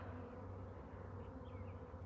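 A queen bee buzzing alone in a small cage, a steady close droning hum that holds evenly throughout.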